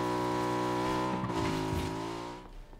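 A car engine roars steadily at high revs in PUBG gameplay, then the pitch dips and shifts as if changing gear, fading slightly at the end; game-style driving sound, no talk.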